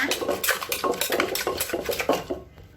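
Seasoning and fish sauce for seafood papaya salad being mixed in a bowl: quick rhythmic clinks and scrapes of a utensil against the dish, close and busy, fading near the end.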